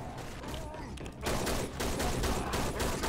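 A continuous fusillade of gunfire in Left 4 Dead 2, rapid overlapping shots that rise to a loud, dense barrage partway through and keep going without a break.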